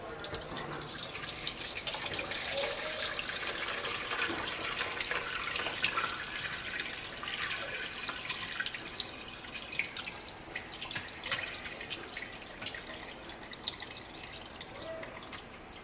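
Broth is poured through a strainer in a home kitchen during Christmas dinner prep, giving a steady, faint trickle and patter of liquid with scattered drips, no voices.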